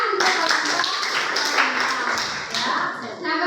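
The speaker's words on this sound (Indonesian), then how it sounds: "Iya, tepuk tangan." A group in a classroom claps after finishing a presentation. The steady, dense clapping runs throughout, with voices speaking over it.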